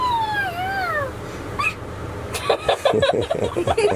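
A high, gliding voice imitates a cat's meow twice in close succession, followed by a brief squeak and then lively chatter and giggling.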